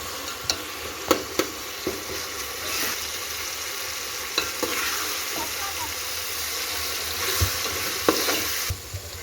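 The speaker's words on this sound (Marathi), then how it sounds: "आता स्वच्छ तांदूळ धुवून घेतलेले आहेत. आता फोडणीमध्ये टाकून घेऊया." Washed rice stirred into hot spiced oil tempering with browned meat for a spicy biryani, giving a steady close sizzle with repeated scraping stir clinks throughout, no talk.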